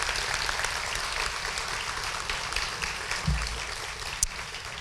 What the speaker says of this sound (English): can we get another round of applause for our very generous presenters tonight?